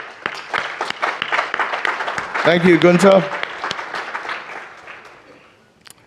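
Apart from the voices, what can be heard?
audience applause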